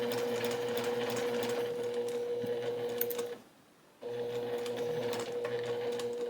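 A sewing machine back-stitching to finish a cross stitch piece, a steady humming whir close by that stops for a brief half-second pause and then resumes at the same even pace, with no talking.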